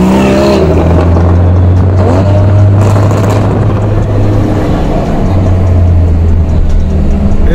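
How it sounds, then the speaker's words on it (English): A car engine with stock exhaust rumbles loudly up close, its deep exhaust note revving up and settling back in a continuous throaty growl. "That's the stock exhaust too. It just sounds so beautiful."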